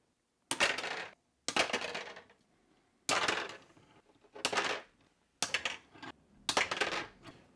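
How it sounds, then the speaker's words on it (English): Copper wire snipped into short pieces for a PowerPole distribution block kit: six sharp, close metallic cuts, each ringing briefly, spaced about a second apart with quiet gaps between. "I'm going to be cutting them at about 18 millimeters"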